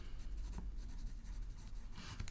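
Pencil scratching on scribble paper, a continuous faint scratchy rasp of writing strokes close by, with quiet background hum.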